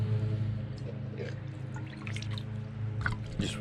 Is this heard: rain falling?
no